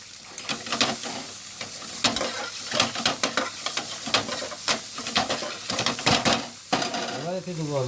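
Chopped garlic and ginger fry in a pan with onion, giving a sizzle under frequent scraping and clinking of a utensil against the metal, close and busy throughout.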